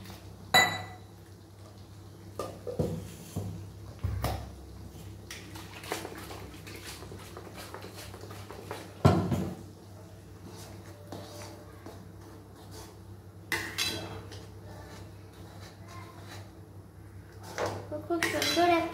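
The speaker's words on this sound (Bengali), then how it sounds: "এবারে আমি মিক্সিটা ভালো করে ধুয়ে জলটা আমি দিয়ে দেব।" A mixer jar being rinsed and its water poured into a pan of palak paneer, with scattered clanks of metal and glassware and a brief splash over a low steady hum, fairly faint and close.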